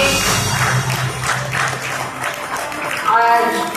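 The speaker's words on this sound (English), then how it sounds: "Big round of applause to Mr. Lokesh." A round of audience applause at an AI hackathon event honouring an organiser, moderately loud clapping blended with crowd voices and a brief announcer tone.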